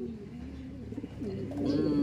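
Racing pigeons coo in low, rolling, throaty calls, close by and growing louder toward the end, with a soft background hum.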